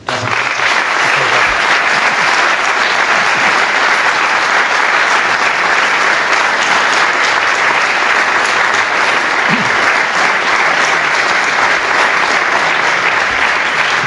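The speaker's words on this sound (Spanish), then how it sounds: "I sí que m'agradaria un fort aplaudiment doncs, a José Enrique per aquesta classe." An audience applauds after a history lecture, a dense, loud, sustained clapping that continues steadily throughout with no audible talk over it.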